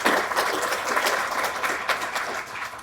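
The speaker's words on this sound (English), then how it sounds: "If we can get Doug one more round of applause." An audience at a senior living community's annual meeting gives a round of applause for a departing board member, a dense, fairly loud wash of clapping sustained throughout with no talk.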